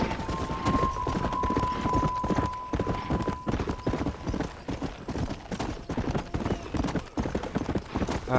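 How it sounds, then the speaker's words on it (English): Galloping horse hooves in the Red Dead Redemption video game pound in a fast, steady clip-clop rhythm, fairly close and prominent, with a brief tonal ring early and little other sound. "let's ride the horse"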